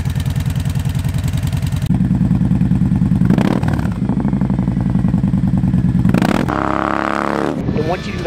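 Kawasaki Vulcan Vaquero bagger fitted with a Freedom Pipes 2-into-1 exhaust, loud and close, idling with a deep pulsing rumble, then revved in several sharp bursts with crackles as the throttle drops.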